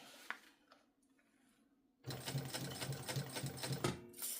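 A sewing machine starts up after a quiet moment and runs steadily, its fast mechanical rattle stitching on at close range.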